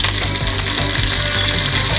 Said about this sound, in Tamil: சேர்த்துட்டு காஞ்ச மிளகா, கருவேப்பிலை இதை போட்டுக்கோங்க.